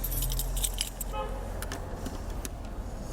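A bunch of keys jangles in bright, repeated metallic clinks near a car, close and fairly clear over a low background rumble.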